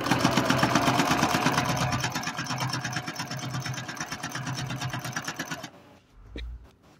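Singer 9836C sewing machine stitching zigzag, a loud steady rapid needle chatter running continuously for about five and a half seconds before stopping, followed by a brief low thump.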